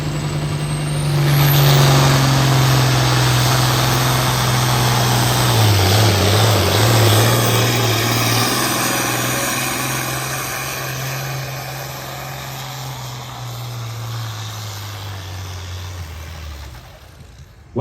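A pulling truck's engine roars loud and close at a truck pull competition, a sustained heavy drone that wavers in pitch under load midway, then slowly recedes and fades toward the end.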